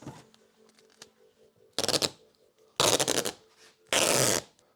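Adhesive tape pulled off the roll and pressed onto a Toyota Supra body panel, three loud ripping tearing bursts about a second apart, close by, with a faint hum between them.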